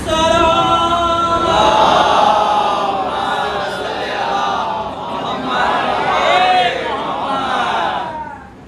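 A large crowd at a Majlis-e-Aza mourning gathering for 4 Safar at Bargah-e-Imam Hussain in Bhilai chants loud religious slogans in unison, the massed voices swelling and falling in repeated surges close by.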